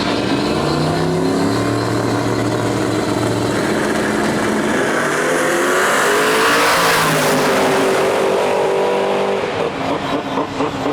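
Drag racing cars, including a Camaro, blast down the track with a loud, strained engine roar that swells and shifts in pitch as they pass, ending in a fading rasp.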